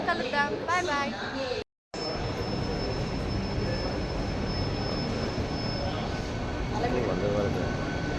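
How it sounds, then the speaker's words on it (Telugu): A Vande Bharat train gives off a steady, loud rumble with a faint high whine. A voice is heard briefly at the start before a short dropout. "వందే భారత్ ట్రైన్ ఇది"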